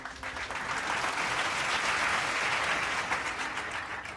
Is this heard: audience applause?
yes